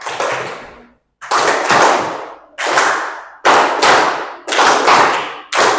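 A classroom of children clap their hands together in a counting game, loud sharp bursts of group claps repeating in roughly six clusters separated by brief pauses, with no talking.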